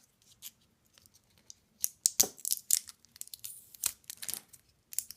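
Tape is peeled and crinkled off a small camera part, giving close, faint crackling and tearing bursts with short quiet gaps between them; no talking.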